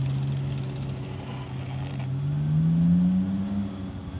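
An Arrma Vorteks RC truck runs at full throttle across grass. Its electric motor gives a continuous close whine that climbs in pitch, holds high, then eases off.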